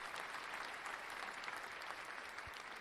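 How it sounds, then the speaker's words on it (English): Clapping on a podcast recording: a soft, continuous wash of applause-like hand claps, fairly faint and steady for a few seconds, with no speech on top. "clap it up for sure."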